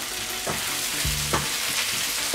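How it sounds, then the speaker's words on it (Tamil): A spoonful of ginger sautéed in oil as the base for tawa prawn masala, producing a close, continuous sizzle with a few brief stirring scrapes. "1 ஸ்பூன் இஞ்சி ஆட் பண்ணிட்டு நல்லா எண்ணெயிலே வதக்கிடலாம்"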